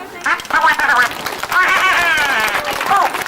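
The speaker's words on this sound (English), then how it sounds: "And now it's time to give us both a great big clap." Audience clapping at a Punch and Judy show, a close burst of applause mixed with children's excited voices calling out over it.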